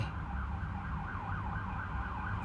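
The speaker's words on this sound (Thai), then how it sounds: "มีเสียงรถวอด้วย เห็นไหมครับ" A faint emergency siren wails up and down in a steady cycle, heard at a distance over a low background rumble.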